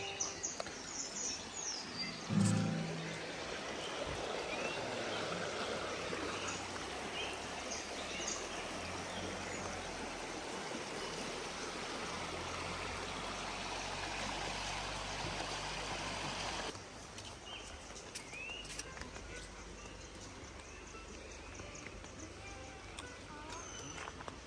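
A river flows beside a campsite tent in Lembang, a steady rushing, gurgling wash of water close by that carries on under a voice.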